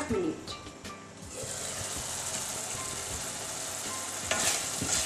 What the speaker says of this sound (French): je laisse cuire les épices et les tomates à feu doux